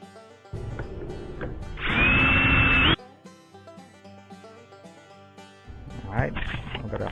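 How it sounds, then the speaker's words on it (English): A power drill bores a single large hole in a skateboard battery enclosure with a loud, steady whine lasting about a second, set between quieter handling clatter and a brief second buzz. "I'm just gonna drill one big ass hole in there"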